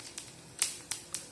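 Mustard seeds and urad dal pop in hot oil, four or five sharp, faint crackles spaced irregularly over a quiet background.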